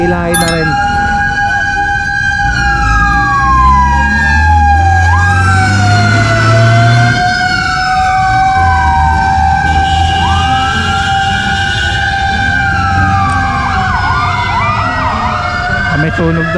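Fire truck sirens wail loudly nearby on a street near Moriones, rising and falling in overlapping sweeps over heavy engine rumble and traffic noise.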